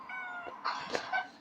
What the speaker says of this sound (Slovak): mačka sa pozdravila